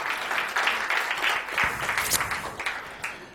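Attendees at a talk about Reiki clap for themselves, a moderate patter of scattered applause that rises and falls unevenly, fairly close and fading toward the end.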